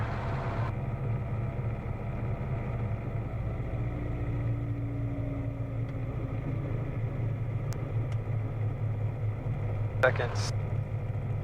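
A helicopter engine runs at night during a training flight over the Bay Area, a steady mid-pitched drone heard from inside the cabin, with a brief voice over the engine and a couple of sharp clicks near the end.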